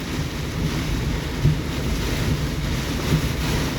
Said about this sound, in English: See how the wind is switching right there?